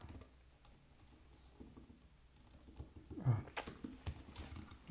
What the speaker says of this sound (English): Nothing like typing on an US layout.